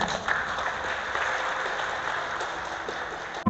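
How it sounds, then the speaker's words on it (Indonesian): Applause at a doctoral defense session, a steady wash of clapping from a seated audience that holds evenly throughout and stops abruptly. "Tepuk tangan."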